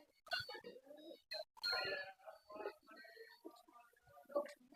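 A teddy king pigeon coos close by in short, soft, throaty bursts with brief pauses between calls.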